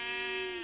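A purple sheep in Minecraft, playing the MadPack 3 modpack, lets out a single short nasal bleat, close and clear, that trails off at the end.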